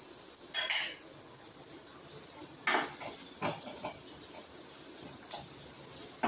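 Onions being stirred and sautéed with salt in a pan for a dried-fish thokku, giving soft scraping and a few sharp utensil clinks against the pan over a faint, steady sizzle.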